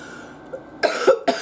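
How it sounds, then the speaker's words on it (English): A woman who is sick coughs, a short rough cough followed by two more quick, close coughs after a quiet moment of room tone. "So now I'm coughing."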